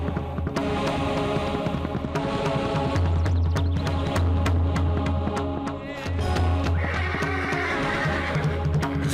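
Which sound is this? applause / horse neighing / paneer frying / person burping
horse neighing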